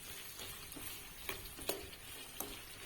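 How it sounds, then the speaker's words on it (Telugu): Sliced green chillies and onions fry with a little salt in a pan, giving a faint, steady sizzle with occasional soft scrapes and taps of a stirring spoon. "సన్నగా పొడుగా తరుగుతున్న పచ్చిమిర్చి అండ్ ఆనియన్స్ యాడ్ చేయాలి కాసేపు ఫ్రై చేసుకోవాలి"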